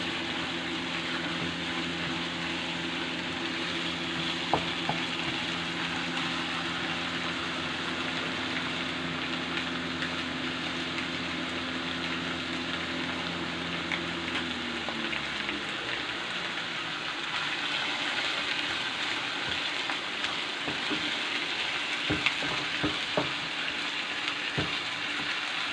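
Onions fry in a pan for dal with a steady, soft sizzle and scattered crackles, while a low background hum fades out midway and the sizzling continues alone.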